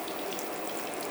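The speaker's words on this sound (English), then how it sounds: "be very careful when you add it to the oil" Steady broadband crackle and hiss of Dutch fried noodle snacks (bamischijven) deep frying in oil, even and continuous with no talking.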